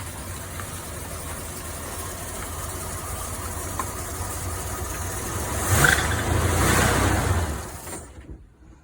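An abandoned Toyota Tercel SR5 wagon's engine idles steadily, then revs up in a loud surge near the end before cutting off abruptly into silence.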